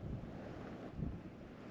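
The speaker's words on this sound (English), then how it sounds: "sorry for the wind, it's really windy today" Strong outdoor wind buffets the microphone with a steady low roar and a few heavier gusts, heard on a very windy day beside a 2022 Ford Maverick XLT FX4.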